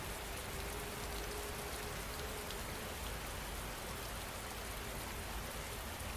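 Steady rain falls continuously, a dense, even hiss of drops on surfaces with no pauses, close and enveloping, with no voices or other sounds over it.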